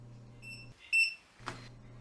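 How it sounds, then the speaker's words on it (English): A TYMO Rovy hair waver's timer gives a short electronic beep, a thin high tone against a low appliance hum, followed by a brief soft click. "It does have a timer, so after 6 seconds it will beep."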